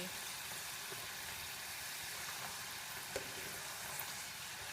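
Thick-cut homemade french fries deep frying in hot oil, a faint, steady sizzle and hiss with a couple of small pops, without any talking.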